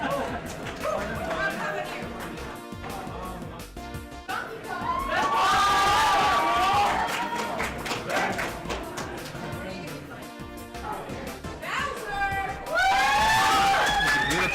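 A crowd at a Mario Kart Winterfest 2018 tournament fills the space with busy chatter, shouts and bursts of cheering that swell loudly in waves, with voices talking over the noise.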